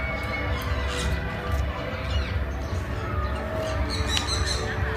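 Birds in Bangkok giving scattered squawks and high chirps against a dense, noisy outdoor background hum, the calls fairly faint and mixed into the din.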